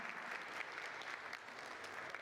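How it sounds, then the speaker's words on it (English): An indoor keynote audience welcomes the chief guest with steady applause, many hands clapping continuously at a moderate distance for the whole short stretch, with no talk over it. "Can we have a huge round of applause and welcome her?"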